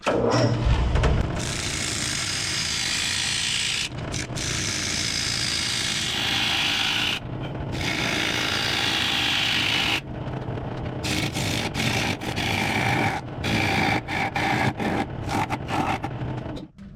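A bowl gouge cuts a gigantic wooden salad bowl spinning on a lathe, making a loud continuous rough scraping hiss broken by several short pauses between cuts.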